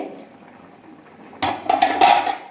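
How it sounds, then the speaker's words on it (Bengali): A metal lid is lifted off a pan of ridge gourd and potato cooking with poppy seed, giving a few sharp, close clanks and rattles after a quiet stretch. "আমরা ঢাকনাটা তুলে"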